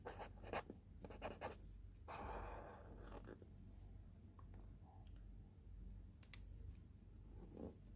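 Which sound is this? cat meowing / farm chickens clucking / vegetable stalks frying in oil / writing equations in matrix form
writing equations in matrix form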